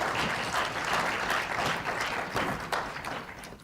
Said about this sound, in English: Another round of applause, please, for the President.